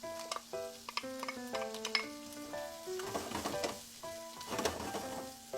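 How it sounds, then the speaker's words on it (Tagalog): Chayote being sautéed in a pan with carrots about to follow, a steady sizzle with intermittent stirring scrapes and light clinks of utensil on the pan, moderately close and without talk. "So, igigisa natin ang sayote."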